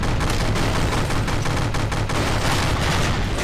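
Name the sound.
SMG gunfire in From The Depths video game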